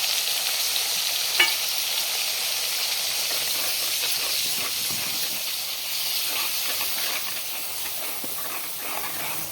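Chopped onion frying in hot oil for a spicy Marathi fish curry, a steady close sizzle with stirring scrapes and one sharp clatter early on, no voices.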